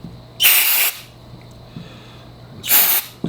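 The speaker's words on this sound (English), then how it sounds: "spray it and wipe it down." Action cleaner sprayed onto a dirty AR-15 rifle in two loud, steady hissing bursts of about half a second each, separated by a quieter pause.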